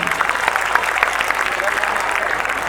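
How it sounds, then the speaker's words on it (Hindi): An audience at a Ramlila stage performance claps loudly and continuously, a dense wash of applause with crowd noise and a voice speaking over it. "एक बार फिर जोरदार तालियां बजा दीजिए।"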